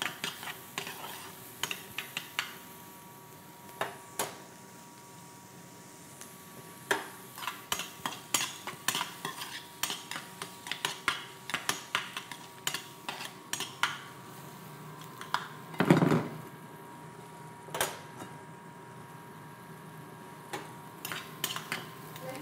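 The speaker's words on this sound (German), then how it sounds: "Da machen wir etwas kleine Zwiebel rein und dämpfen die mal an." Small onions sauté in butter in a pan with a low, steady sizzle, broken by frequent clicks and scrapes of a utensil stirring against the metal.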